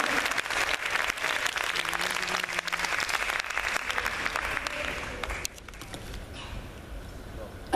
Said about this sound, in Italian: facciamo un applauso ad Amedeo e ad Alfonso insieme.